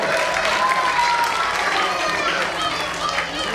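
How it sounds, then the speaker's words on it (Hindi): Audience at a sari auction breaks into steady, dense applause mixed with crowd chatter, filling the room at close range for the whole stretch. "अबे तालियां तो बजाओ"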